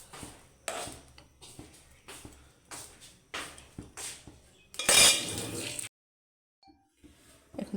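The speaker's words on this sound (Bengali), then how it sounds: "এই যে এখন তরকারিটা ঢাকনাটা দিয়ে দিলাম" Metal clatter and scraping from a pot of fish and pointed gourd curry, with rhythmic clinks and a loud rattling burst as the lid goes on, then sudden quiet.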